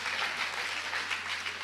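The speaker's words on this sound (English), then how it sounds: "We could give them a round of applause." Steady applause from a keynote audience at an education technology showcase, a continuous wash of clapping with no voices over it.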